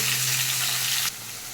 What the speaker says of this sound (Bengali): মশলাটাকে ভালো করে কষিয়ে নিচ্ছি আমি